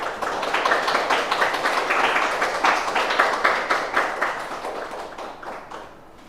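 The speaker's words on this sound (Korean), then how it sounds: "따뜻한 박수로 진행해 주십니다." A church congregation at Myungshin Church's Sunday service claps warmly in a steady, moderately close round that gradually thins and fades out toward the end.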